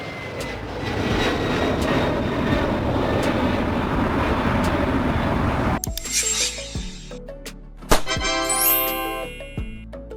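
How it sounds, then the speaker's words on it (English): A cargo jet aircraft roars steadily for several seconds, then the noise cuts away to a few sharp clicks and light tinkling tones. "A jet aircraft designed or modified to transport goods and cargo instead of passengers."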